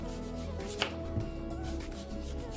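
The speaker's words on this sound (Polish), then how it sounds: "Cebulę kroimy w takie plasterki" An onion is sliced into rounds with a knife, giving a few muted, close cuts that are spaced unevenly over a low steady background hum.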